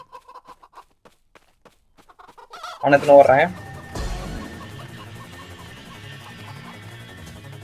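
Game chickens cluck repeatedly in a Roblox chicken game, the clucks tapping lightly at first, then a louder burst of squawking with busy game sounds and music running underneath.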